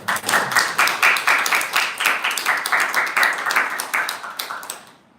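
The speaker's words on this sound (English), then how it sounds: "So big round of applause for that." Audience applause at a devotional Bhagavata gathering: a steady patter of many hands clapping in quick rhythm, fairly close and lively, fading out toward the end.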